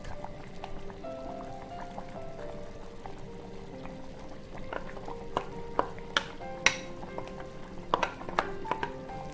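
Vegetable soup with fried tofu, tempeh and coconut milk being stirred in a pot: a quiet bubbling simmer with soft liquid sloshes and a few sharper spoon clinks against the pot, close and fairly faint.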